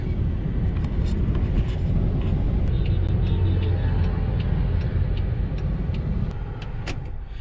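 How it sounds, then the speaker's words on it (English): Road traffic in India, a dense continuous rumble of passing car and vehicle engines with scattered faint clicks and distant honks, heard steadily throughout. "Traffic."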